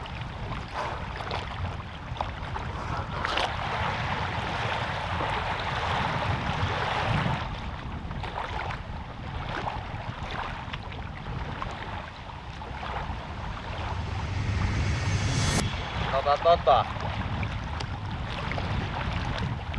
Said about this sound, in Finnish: On aika kovat noi aallot.